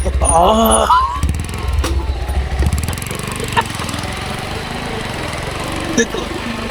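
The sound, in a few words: Lexmoto Hawk R9 motorcycle engine while riding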